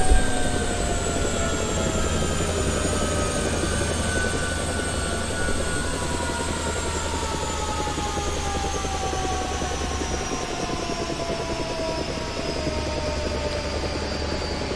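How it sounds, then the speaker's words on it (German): A Mi-24D helicopter in the video game War Thunder shuts down its engines, a loud steady turbine whine and rotor drone whose pitch slowly sinks as the engines wind down. "Nein, ich will hier den Hubschrauber abstellen."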